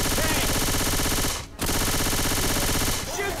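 Rapid automatic gunfire in the zombie shooter Left 4 Dead 2, loud and continuous, breaking briefly mid-burst before resuming with a dense, rattling rhythm.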